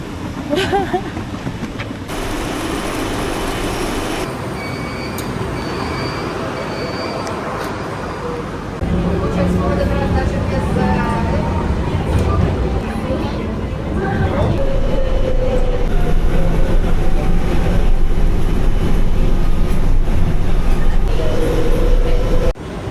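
Train ride in Malaysia, a steady loud rumble and rattle of the carriage running throughout, with excited voices and chatter over it.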